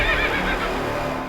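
A horse whinnies in one loud, drawn-out neigh that wavers in pitch, heard alone without any talk.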